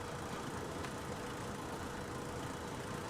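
Car engine idling in The Long Drive game, a steady, even broadband hum with no change in pitch or pace, quiet and unbroken with no voices.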